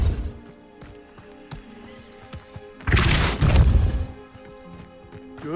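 A Depulso spell cast in the video game Hogwarts Legacy, a loud whooshing burst lasting about a second amid faint game sounds and clicks.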